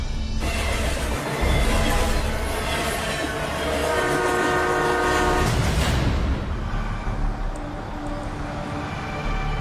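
A freight train rolls past up close and loud, a long steady horn blast over the rumble and clatter of rail cars, the sound easing slightly after the horn ends, on a rail line in northern Alberta, Canada.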